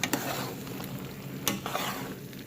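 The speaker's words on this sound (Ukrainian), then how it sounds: "Я беру шумовочку і вони вже розтираються." Cooked apples for apple jam are mashed in a pot with a metal skimmer, giving a continuous wet, squelching stir with a couple of sharper scrapes against the pot, close and moderately loud.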